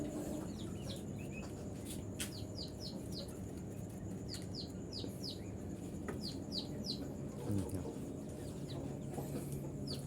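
Baby chicks in a nursery pen peep in repeated short high chirps over a steady low hum, faint and fairly distant, with no voices.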